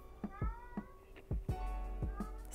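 A cat meowing several times in quick, short calls near a Litter Robot 3 Connect litter box, close and fairly quiet over a steady low background hum.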